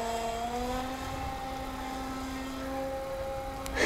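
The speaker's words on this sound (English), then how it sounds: "Look at that jet, guys." A radio-controlled F-8 Crusader model jet on its first flight gives a steady, fairly loud engine whine that holds a constant tone as it passes, with no talk over it.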